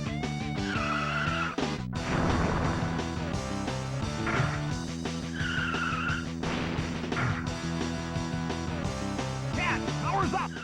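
Race cars in the SNES game Rock N' Roll Racing, with buzzy synthesized engine drones and skidding tire squeals mixed under loud, driving game music. The sound stays dense and continuous throughout.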